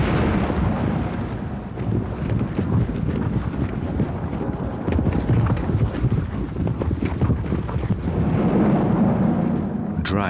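Nervous horses before a thunderstorm on the Hungarian puszta, moving restlessly with hooves clopping irregularly over gusty wind noise, close by and fairly loud throughout.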